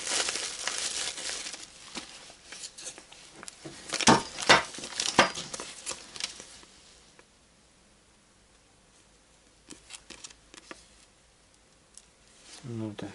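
A small plastic packet holding a drill tap is handled, giving bursts of sharp crinkling that fade into quiet, then a few lighter rustles near the end.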